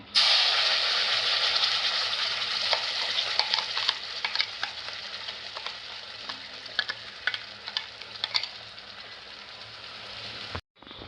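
Masala paste frying in hot oil for a Konkani fish curry produces a loud, bright sizzle that slowly settles, with intermittent stirring scrapes and crackles before cutting off abruptly near the end; no voices.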